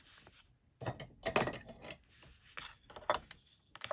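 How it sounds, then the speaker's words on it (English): A burnishing tool scores a line in paper for a junk journal, making close, scratchy rubbing strokes in uneven bursts. No one talks. "I'm scoring it on here. And then I'm going to fold it on that score line."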